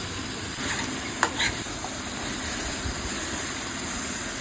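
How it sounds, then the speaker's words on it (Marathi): Spiced raw mango pieces sizzle steadily in a hot pan while a utensil scrapes and stirs, with a couple of sharp clinks near the start. "छान असं व्यवस्थित फ्राय करून घ्यायचं"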